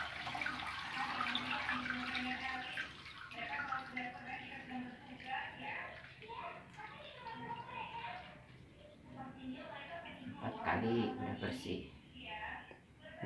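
Sieved sand used for cricket egg-laying is rinsed clean under running water, with splashing and trickling from a tap or container under a speaking voice.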